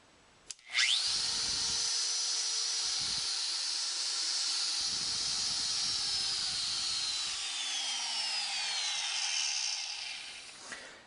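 A DEWALT DWP611 compact router switches on and runs at a steady high-pitched whine for about ten seconds, loud and close, then spins down at the end with a faint falling pitch.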